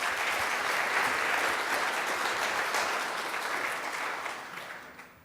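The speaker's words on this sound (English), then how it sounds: "Let's give them a round of applause first." Audience applause after a technical case-study talk at UC Berkeley AmpLab, full steady clapping that gradually thins and fades toward the end, no speech over it.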